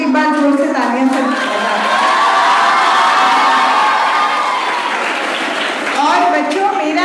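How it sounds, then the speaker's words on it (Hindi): Loud applause from children and an audience, with cheering and high-pitched shouting and whoops over continuous clapping, sustained and close throughout. "तो सर के लिए भी एक बार जोर से तालियां सर।"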